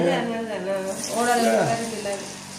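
Vada frying in hot oil gives a steady close sizzle under a person talking throughout.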